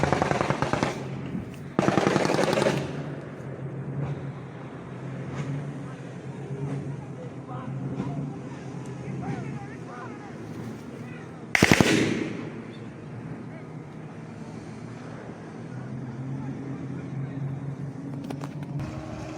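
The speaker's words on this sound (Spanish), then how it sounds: "El disparo de esta gente." Gunfire during a clash between indigenous people and soldiers in Alto Amazonas, heard as two loud, sharp bursts standing out from steady outdoor noise and background voices.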